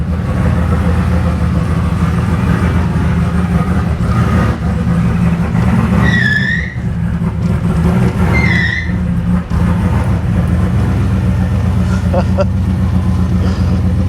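A car engine idling with a steady low rumble, close and loud, with a couple of brief high squeals or whistles in the middle and someone talking over it.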